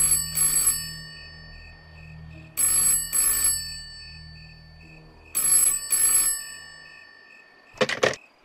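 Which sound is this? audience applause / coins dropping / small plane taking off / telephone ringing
telephone ringing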